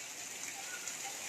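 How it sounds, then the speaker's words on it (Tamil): Early summer rain falling steadily in Mumbai, a dense, even hiss of drops on surfaces throughout, close and continuous with no clear breaks. "ஃபஸ்ட்டு மழை மும்பையில் பெய்யுது."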